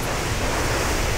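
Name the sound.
water splashing in the video game Warcraft 3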